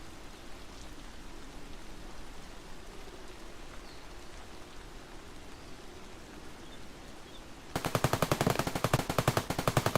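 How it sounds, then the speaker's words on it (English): Machine gun fire in a video game breaks out near the end as a rapid rattling burst of shots, following a stretch of quiet hissing ambience. "That's the machine gun guy again, right?"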